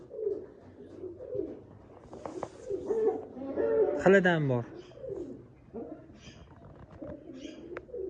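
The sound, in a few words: pigeons cooing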